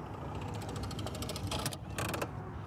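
The power-rewind reel for the 50-amp power cord on a 2023 Newmar Dutch Star 4326 motorhome winds with a rapid mechanical ratcheting clatter, close and steady, with heavier bursts of clicking near the end.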